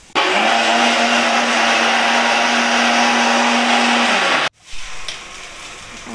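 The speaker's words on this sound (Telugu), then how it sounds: "మూడు టమాటాలు కూడా మిక్సీకి వేసుకోవాలండి." A mixer grinder whirs loudly and evenly as three tomatoes are blended into paste, its motor droning close for about four seconds before cutting off sharply, followed by faint clatter.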